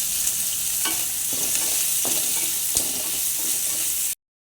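Garlic, ginger, coconut, tomato and onion roasting in oil in a pan for a crab curry masala, a steady close sizzle broken by several sharp scrapes of stirring, with no one talking.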